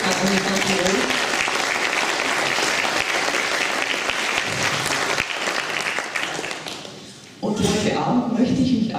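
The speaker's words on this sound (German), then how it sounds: "Großer Applaus, danke für das Land Tirol." Loud, dense applause from an audience at an Innsbruck Mini Med Studium event fills the room, thinning briefly and then swelling again near the end, with voices mixed into the clapping.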